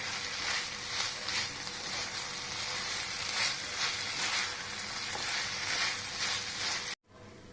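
Gobi Manchurian cauliflower florets sizzling and frying in gravy over a high flame, a steady close crackling hiss that stops abruptly near the end.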